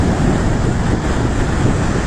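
Stormy sea on the Sicilian coast at Sant'Agata di Militello, Messina province, surf pounding near a closed seafront road: a steady, loud roar of breaking waves mixed with wind buffeting, continuous with no voices.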